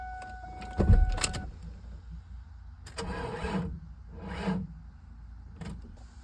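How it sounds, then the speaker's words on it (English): A car with a freshly charged battery cranks but fails to start: several separate bursts of starter whirring with pauses between, close by, with no engine catching and no talking. "let's go ahead and see if this car will fire up"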